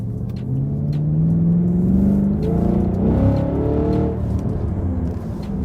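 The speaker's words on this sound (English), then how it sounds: "You can hear the exhaust, it's really loud" A 2018 Chevrolet Camaro SS engine roars loudly as it accelerates, its exhaust note climbing in pitch, then easing off with a steady rumble.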